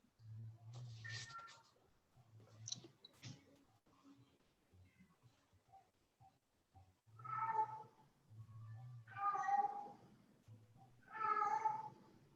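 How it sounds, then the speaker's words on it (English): A cat meows several times, drawn-out cries at intervals, with quieter indoor sounds and faint murmurs between them. "the cat walks around the house meowing like that."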